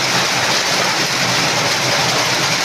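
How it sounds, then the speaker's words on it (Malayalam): Heavy rain pours down outside a home kitchen as a loud, dense, unbroken hiss and roar that fills the whole stretch with no voices. "ഇവിടെ നല്ല മഴയാണ് കേട്ടോ, അതാണ് ഭയങ്കര സൗണ്ട് കേൾക്കുന്നത്."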